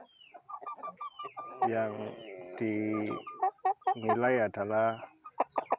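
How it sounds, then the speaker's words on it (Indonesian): A Pelung rooster crows in several long, drawn-out, melodious calls with short clucks between them, close and clear, while someone talks over parts of it. "perbedaan suara kokoknya ya"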